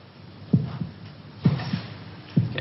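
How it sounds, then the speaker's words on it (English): A slow heartbeat thumps three times, each a low double thud about a second apart, muffled and steady against a faint hum. "Can you hear your heart beating?"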